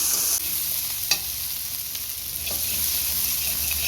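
Cumin paste and chilli paste sautéing together in a hot pan for an egg curry, a steady close sizzle with a few sharp scrapes and clicks of a stirring spoon, no voices.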